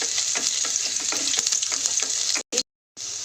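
Chopped garlic and ginger sizzle loudly in hot oil, a continuous crackling fry with the scrape of stirring. Two abrupt dropouts break the sound near the end.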